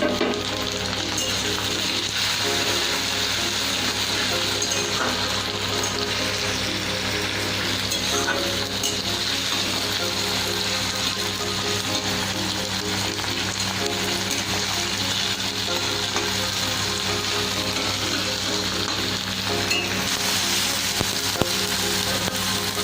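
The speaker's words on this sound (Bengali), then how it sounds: "আমার এখন টমেটোটাও ভাজা হয়ে গেছে" Chopped chili and tomato frying with onions in a pan for a Bengali home-style chicken roast, a steady close sizzle and crackle running evenly throughout with no talking.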